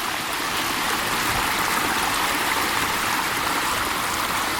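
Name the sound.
spring-fed creek water flowing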